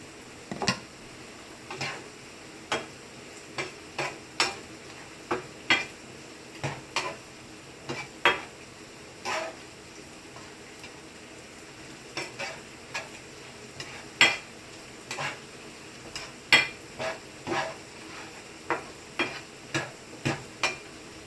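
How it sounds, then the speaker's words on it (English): A vegetable stir fry with lemon juice is stirred in a pan, a utensil tapping and scraping the pan in quick, regular strokes over a soft sizzle, close and steady with no talking. "then quickly stir it for no more than like 10 seconds"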